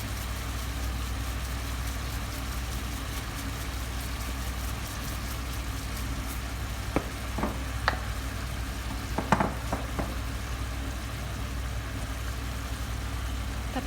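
Chicken feet are stirred in an oiled pan with black pepper, giving a faint, steady low sizzle with a few scattered scrapes and clinks from the spoon.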